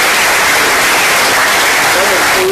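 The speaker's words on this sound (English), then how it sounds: "Let's give these students a round of applause" Applause from the audience at a school board meeting honoring students, a steady wash of clapping that fills the room, with voices partly blended in.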